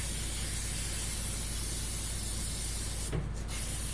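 Continuous hiss of 3M General Purpose 45 spray adhesive being applied evenly in an even, steady stream close by, with a brief change near the end, no talking.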